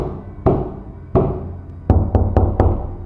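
Knocking on a door: two single heavy knocks spaced apart, then a quick burst of four knocks in a row, loud and close in an otherwise quiet room.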